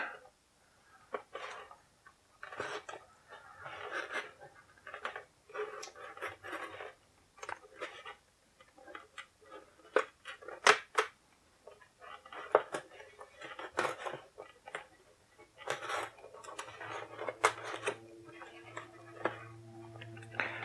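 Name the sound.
cutting open taped pieces on a toy box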